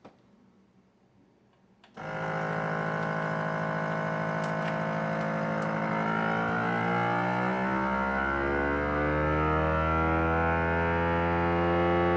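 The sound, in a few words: FoodSaver vacuum sealer vacuuming a bag of zucchini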